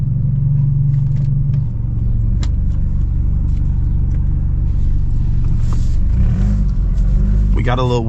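A straight-piped stage 2+ BMW F30 under hard pulls, with a loud, deep exhaust rumble throughout, scattered sharp pops and bangs, and a rising rev near the end.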